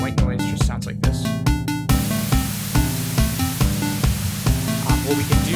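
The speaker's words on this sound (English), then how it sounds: "So white noise just sounds like this." A burst of synthesized white noise, a broad steady hiss that cuts in over a looping synth beat and keeps running beneath it.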